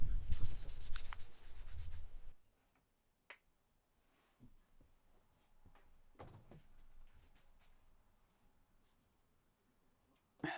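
Hand-sanding small cut plywood and foam board pieces: a loud burst of rapid scraping strokes at the start, then quieter intermittent rubs and scuffs, ending with a short sharp scrape.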